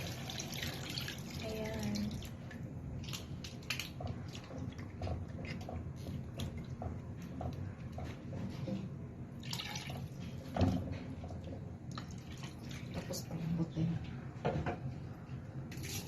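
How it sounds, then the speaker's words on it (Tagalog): Mineral water poured into a pot of chicken kabsa with basmati rice, a steady running and dripping liquid sound with kitchen clatter, moderately close, with a voice talking over parts of it. "Lalagay na guys yung mineral water"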